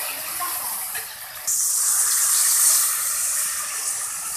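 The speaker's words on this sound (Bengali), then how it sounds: "অল্প করে পানি দিয়ে দিলাম" Water poured in a small splash into ginger-garlic paste frying in a pan, a steady hissing gush that starts abruptly and continues close up.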